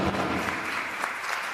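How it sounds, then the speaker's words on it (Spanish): Brief applause from a panel audience for a departing minister at a public procurement forum, a short, fairly quiet burst of clapping that stays steady throughout. "Vamos a darle un fuerte aplauso al ministro que nos ha acompañado un ratito en el panel."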